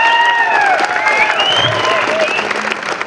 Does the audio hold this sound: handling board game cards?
no